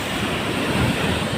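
Ocean waves break and wash onto the shore near the Sulangan lighthouse, a steady, fairly loud rushing roar with some wind noise across the whole stretch.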